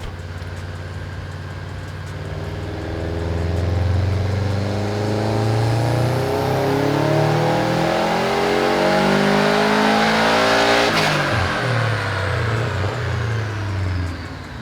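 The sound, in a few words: Subaru STI engine revving on a dyno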